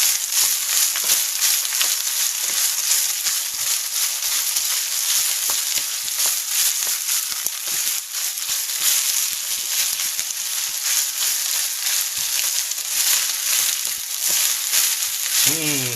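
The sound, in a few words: cup of rice frying in a hot pan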